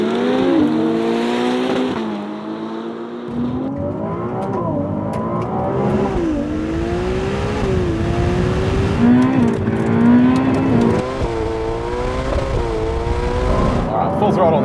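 A Ferrari 488 Pista and a 296 GTB accelerate hard side by side in a drag race, engines rising and dropping through loud gear shifts from inside the car, with someone talking over the roar.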